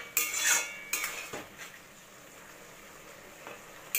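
A metal lid is lifted off a pot of red amaranth leaves and potato, giving a bright clatter of metal against metal, a few lighter knocks after it, and a faint simmer underneath.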